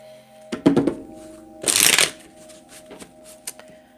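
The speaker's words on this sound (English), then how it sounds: "I'll just shuffle decks in the meantime." Decks of playing cards are shuffled close up, with quick riffling bursts, one longer riffle and bridge in the middle, and soft taps and squaring clicks between.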